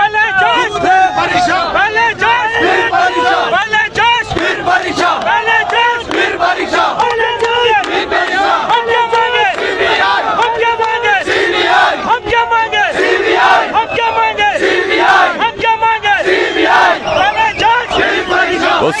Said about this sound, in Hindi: काफी बड़ी भीड़ है, निसंदेह बहुत बड़ी भीड़ है यहाँ पर अभी छात्रों की